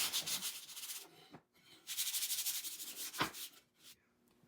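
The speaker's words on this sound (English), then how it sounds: "So now I'm using my soft sandpaper. I'm just running it on the edges and giving it a really smooth finish" Soft sandpaper rubs along the edges of a wooden sign frame. There are repeated close scratchy strokes in two main bursts with short pauses between them, and no talking.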